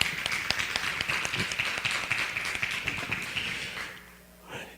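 An audience at a Brazilian foreign policy and civil society panel breaks into steady, dense applause with sharp individual claps, then fades out near the end, leaving a quiet room.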